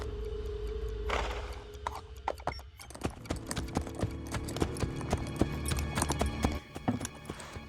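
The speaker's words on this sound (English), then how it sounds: "Get me a horse!" Horse hooves clip-clop in the video game Assassin's Creed Brotherhood, a quick uneven gallop of sharp hoof strikes that starts after a moment and runs to the end, fairly close, with no talk.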